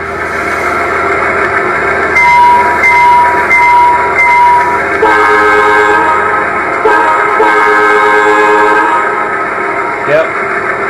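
Weathered SD70 model locomotive fitted with a sound decoder, its horn sounding loud and near in repeated blasts over a steady diesel idle.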